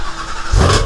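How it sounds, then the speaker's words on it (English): A Ford Shelby GT350 with active exhaust fires up from cold, a loud, sudden low roar bursting in after a short lull and holding close and strong. "Good cold start."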